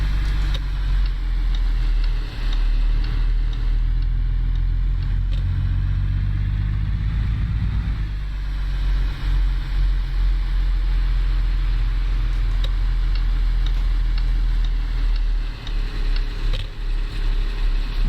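A new truck's engine runs steadily close by, a deep continuous rumble that rises briefly in a light rev, then settles back to an even idle-like drone.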